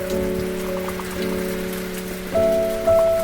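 Heavy wind-driven rain in Israel drums steadily on a surface, loud and continuous, with sustained tonal hums layered over the downpour.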